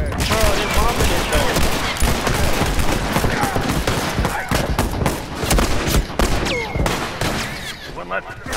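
Heavy gunfire and explosions in The Last of Us Remastered on PS4, dense bursts of shots and booms throughout, with players talking over the battle.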